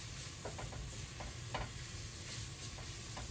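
Flour is stirred into onions cooking in a pot for a roux, with soft scraping strokes of a spoon over a low, steady sizzle, close and quiet, with no voices.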